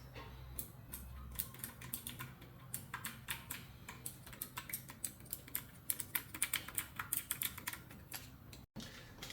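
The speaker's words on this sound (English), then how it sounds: "just a sound test on the keys." Keys on a Divoom Ditoo Pro keyboard speaker being typed on, a quiet run of crisp clicky keystrokes in irregular bursts, close and alone.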